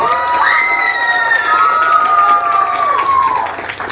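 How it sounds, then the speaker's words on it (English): A crowd at an anime convention cosplay contest cheers for a winner, with a loud, high, sustained shout or whoop rising and falling over lighter background crowd noise and a little clapping. "We'll give her another round of applause."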